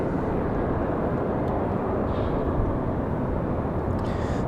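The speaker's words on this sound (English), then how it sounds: "So that A321, American Airlines 1897, again off to Charlotte." An American Airlines Airbus A321 jet departs Raleigh-Durham International Airport, a steady, dense engine roar filling the whole stretch without any talking.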